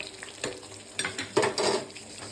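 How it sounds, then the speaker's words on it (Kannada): A spoon stirs lentil curry in a pot after coriander leaves are added, with a few soft scraping strokes and a gentle sizzle, close and fairly quiet. "ಕೊತ್ತಂಬರಿ ಸೊಪ್ಪು ಹಾಕಿ ಮಿಕ್ಸ್ ಮಾಡಿ."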